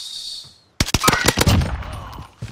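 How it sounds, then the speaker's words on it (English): A burst of rapid automatic gunfire bursts out loudly in Call of Duty Warzone after a brief high whine, the shots packed tightly together and fading into a lingering rumble. "Yeah, they were shooting me."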